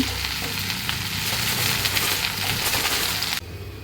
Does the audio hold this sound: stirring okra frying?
yes